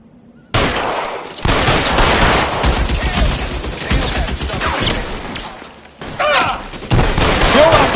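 Gunfire in L.A. Noire, loud sustained bursts of automatic fire with mechanical clatter, pausing briefly before resuming, no speech.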